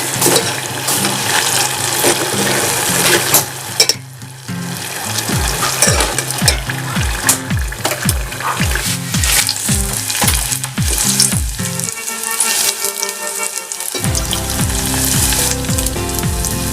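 Oatmeal lumpia fry in hot oil with a loud, continuous crackling sizzle, broken by a rhythmic series of low thuds from the pan and brief pauses where the frying dips.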